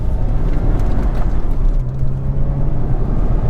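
A Porsche Boxster on BF Goodrich g-Force Sport Comp-2 tires accelerates, a loud, steady blend of engine drone and broadband road roar from inside the car, with no talk.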